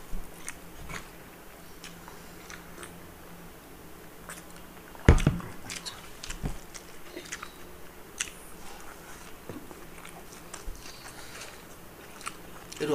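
Someone eats an egg omelette quickly, with soft close chewing and biting sounds repeating irregularly, one sharper knock partway through, over a quiet room background.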